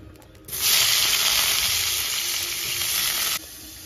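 Onions drop into hot oil in a wok, setting off a sudden loud, steady sizzle that holds for about three seconds and then cuts off abruptly.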